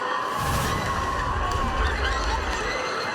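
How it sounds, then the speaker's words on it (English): Home crowd at Cary roaring and cheering during a Friday night high school football game against Apex, a dense, steady wash of many voices with shouts and whoops that stays loud throughout. "The Cary crowd is going nuts."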